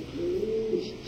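A grizzle female fancy pigeon coos once in a village breeding loft, a soft, low, drawn-out call, close by over a light background hiss.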